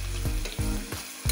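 Sliced onions fry with whole spices in a pressure cooker, a steady close sizzle broken by several soft scraping stirs at regular intervals.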